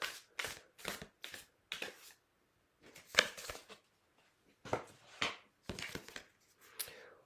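Tarot cards shuffled by hand before a draw: a series of quick papery riffling bursts separated by short pauses, close and crisp in a quiet room.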